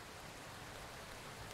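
Steady rain pours down in the farming video game Farmer's Life Simulator, a dense, even hiss of falling water heard alone for a moment.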